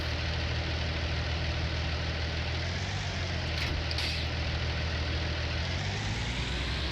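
A tractor engine idles in Farming Simulator 19, a steady low mechanical rumble with a faint knocking pulse, continuous and close, with no talking.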